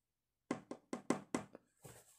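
Knuckles rap on a door in a quick, close series of about six sharp knocks, with faint rustling after the last one.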